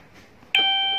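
After a brief quiet, a single bright electronic chime from a Wi-Fi video doorbell rings out suddenly and sustains as a clear ringing tone, loud and close.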